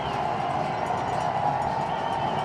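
At a snowy FCS playoff football game between South Dakota State and Delaware, a large stadium crowd roars in a sustained, distant wash of cheering noise.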